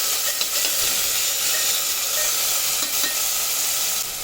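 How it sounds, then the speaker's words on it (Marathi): Cluster beans (guar) roast in hot oil in a pan, giving an even, continuous loud sizzle and hiss from close by, with no voices. "तर आता ही पहिल्यांदा आपण ना थोडी तेलात भाजून घेऊया चांगली अशी भाजून मस्त तेलात घ्यायची"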